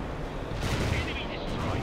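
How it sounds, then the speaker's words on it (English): Anti-air missile fire in a war video game, a loud, continuous roaring blast with dense rumbling noise lasting about two seconds. "Our AA missiles are ready to be fired."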